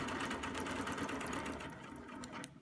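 A sewing machine stitches a quilt border in a fast, steady rhythmic whir of needle strokes, close up and alone, slowing toward the end.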